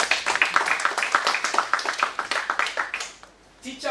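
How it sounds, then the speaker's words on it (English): An audience claps in a quick, steady patter of many hands at an education event welcoming a delegation, fairly close, fading out near the end. "Let's clap it up."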